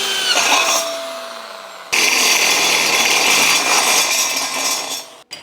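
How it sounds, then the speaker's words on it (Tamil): A power drill whines loudly and continuously, boring an axle bolt hole through the square tube metal frame of an electric go-kart, dropping briefly in pitch before surging again at full speed, then cutting off abruptly near the end. "இந்த இடத்துல ஆக்சில் போல்ட் போடுறதுக்கு தேவையான அளவுக்கு நம்ம ட்ரில் பண்ணிக்கலாம்."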